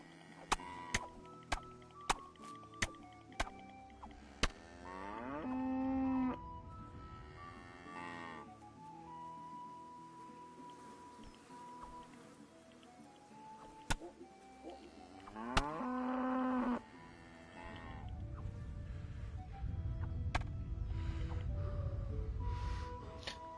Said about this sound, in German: Die zweite Kuh hat sich noch nicht beruhigt.